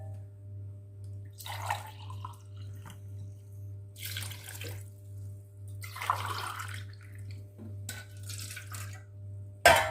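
Water poured into a wide kadhai while making a sweet plum chutney with jaggery, coming in several separate splashy pours against a steady low hum, fairly quiet and close.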